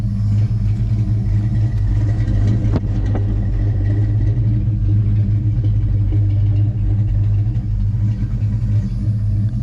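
A wrecked SN95 Ford Mustang's engine idling, a loud, steady low rumble held close throughout with a brief mechanical tick partway through.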